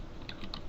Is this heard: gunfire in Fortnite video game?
no